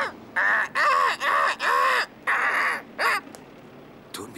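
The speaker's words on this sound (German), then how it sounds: "Das ist eine besonders böse Krähe." A crow caws about seven times in a loud, close, harsh series of evenly spaced calls, followed by a short pause and one faint clipped call at the end.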